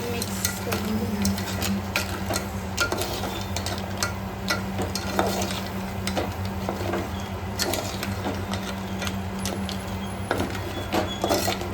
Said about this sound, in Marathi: सध्या मी तर एवढंच टाकणार आणि हे आपण मिक्स करून घेणार.